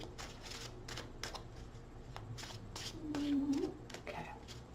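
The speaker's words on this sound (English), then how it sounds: "2 more shuffles." Tarot cards being shuffled by hand: a string of quick papery riffling bursts at irregular intervals, fairly close, with a brief low hum near the end.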